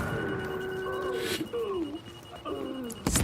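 Repeated electronic beeping from an alarm in the video game The Division, a steady tonal beep pattern with short pulses, moderately loud over faint background game ambience.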